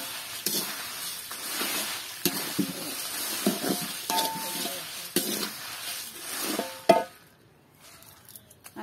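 Dried red chillies roasting with coriander seeds in a hot pan give a steady dry sizzle with crackling and scraping stirs, close and fairly loud, before fading to near silence at the end.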